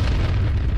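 Bombs going off in a video game, a short loud low boom filling the moment with no speech.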